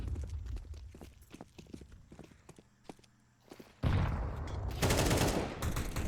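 AK rifle fire in Counter-Strike on the map Ancient crackles in quick, sharp shots over footstep-like clicks, then gives way to a loud, dense burst of sustained noise in the last seconds.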